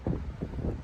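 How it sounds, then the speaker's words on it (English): Gusty wind buffets the microphone outdoors on a warm winter walk, a rumbling low roar that swells and eases in uneven puffs, with no voices. "It's a bit windy"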